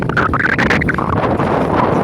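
Strong wind buffets a microphone outdoors in hilly forest country, a loud, rough rumbling roar with gusting swells that continues without a break.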